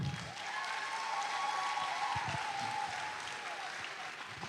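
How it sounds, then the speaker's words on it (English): A high school graduation audience claps for the visual arts department, a continuous fairly distant wash of applause filling a large hall. "So clap them."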